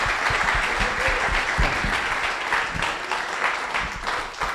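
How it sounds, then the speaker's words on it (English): An audience applauding a speaker at a data science talk, loud sustained clapping from many hands filling the room, close and continuous throughout. "how about a round of applause for Dr."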